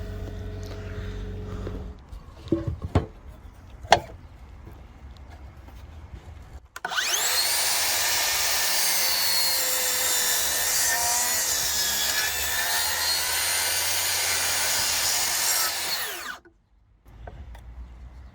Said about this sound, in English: I've got a piece here that is 50mm. I'm going to give that a go at beveling.